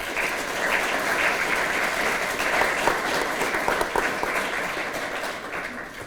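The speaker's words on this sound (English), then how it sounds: "they deserve a round of applause for the hard work that they do" A crowd at a Veterans Day ceremony breaks into steady, dense applause, a continuous wash of many clapping hands held at an even level throughout.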